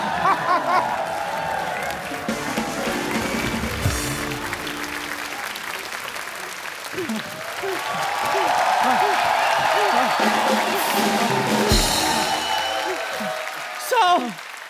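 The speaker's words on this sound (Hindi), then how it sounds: "जोरदार तालियां" Loud applause from a TV comedy show studio audience rolls on throughout, a crowd clapping steadily with scattered voices and whoops beneath, swelling stronger toward the middle and end.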